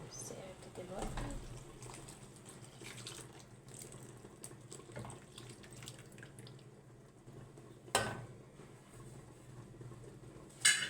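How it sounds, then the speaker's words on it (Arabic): Cold milk is poured onto cooked vermicelli in a pot with a quiet, running, watery trickle. A sharper clatter sounds around eight seconds and again at the very end. "نحط اللبن الساقع دلوقتي"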